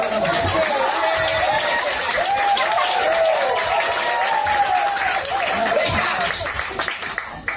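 Pentecostal church congregation applauding in a hall, a dense, lively burst of clapping mixed with cheers and chatter that holds strong before easing off near the end.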